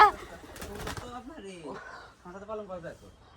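Soft, throaty pigeon coos in a few rolling phrases, close by, with a brief rustle at the start.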